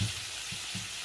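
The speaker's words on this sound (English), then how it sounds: "we're going to get all this fried up nicely" Pork tenderloin fries in a thick non-stick pan, giving a soft, steady sizzle with a few low bumps as the meat shifts, close by with no talking.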